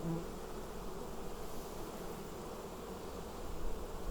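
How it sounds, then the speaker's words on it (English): Honey bees buzz continuously around an open hive during fall inspection, a dense, even drone of many insects close by with no voices. "lots of pollen, lots of bees."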